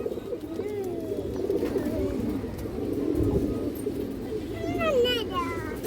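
Domestic pigeons coo softly in a loft among fancy breeds such as Indian high-flyer Kaldam, with a few brighter bird calls over a steady murmur of background noise and someone talking.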